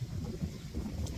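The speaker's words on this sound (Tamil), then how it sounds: "செம்மையாக காற்றடிக்குது" Strong wind on an open rock outcrop buffets the microphone with a low, rumbling roar that gusts continuously throughout.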